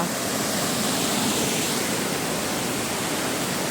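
A hidden forest waterfall roars in a constant, full rush of falling water, close and loud with no break.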